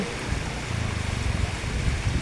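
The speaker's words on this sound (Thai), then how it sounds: "ดูกระแสน้ำไหลแรงและไหลเชี่ยวมาก" Strong, fast-flowing flood water current rushes past with a rough, low churning roar, steady and moderately close, briefly heard alone without talk.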